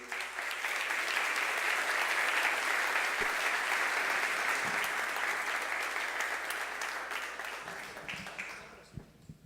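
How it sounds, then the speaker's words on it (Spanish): Sustained audience applause welcoming a speaker to a university talk, a dense roar of clapping that stays strong before thinning and tapering off near the end, with scattered individual claps as it fades. "Y si ustedes me acompañan dándole un aplauso a Gabriel"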